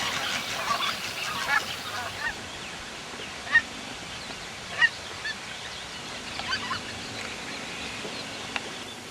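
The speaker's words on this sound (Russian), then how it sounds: "Пролетные стаи белолобых гусей, летящих в тундру, прерывают неспешный ход наших мыслей и зовут за собой." Flock of greater white-fronted geese honking in flight over the Siberian tundra route, scattered distant calls with a few sharper honks standing out against steady outdoor background noise.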